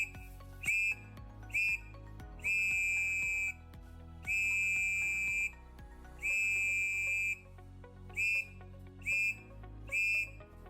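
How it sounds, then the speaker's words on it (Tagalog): A handheld whistle sounds a distress signal as a series of loud, shrill blasts, short and long in an SOS-like pattern, with clear gaps of silence between them and no talking. "Pumito ng 3 maiksing tunog gamit ang iyong pito."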